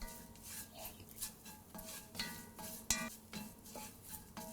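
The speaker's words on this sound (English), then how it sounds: "After adding all the masalas, mix it nicely with onions." Masala being stirred into onions in a pan for mushroom masala, a spoon scraping and tapping against the metal in an irregular rhythm over a faint sizzle, close and fairly quiet, no talking.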